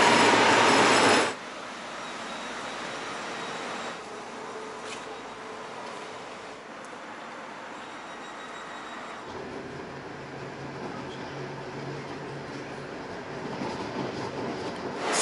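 A Frankfurt S8 S-Bahn train sits at a station platform, with a loud burst of rail noise at first, then a quieter, steady mechanical rumble and hiss of the station.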